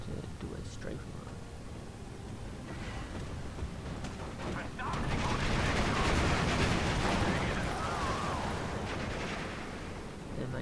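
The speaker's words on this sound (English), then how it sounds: "Using my fighter to do a strafe run." Rapid, sustained gunfire from a fighter plane's strafe run in a video game builds into a dense, rumbling roar of overlapping shots and blasts midway, with a voice talking over the battle noise.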